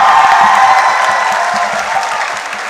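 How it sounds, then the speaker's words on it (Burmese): Loud, dense applause from a large audience at a live grand-final singing competition, steady throughout and gradually easing off toward the end. "အတွက်လက်ခုပ်တန်လေးကြားကြပါတော့"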